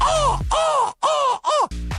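Loud crows cawing close by, four harsh drawn-out caws in quick succession followed by a shorter rasping call, each clearly separated by brief gaps.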